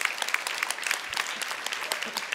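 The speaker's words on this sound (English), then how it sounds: "give him a big round of applause" A summit audience gives a round of applause, steady dense clapping throughout the short stretch at moderate distance, with no break or clear change in intensity.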